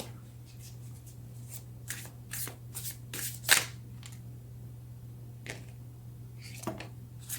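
Tarot cards are shuffled up close in a quiet room, giving a series of soft riffling bursts and one sharper slap, with no talking over a low steady hum.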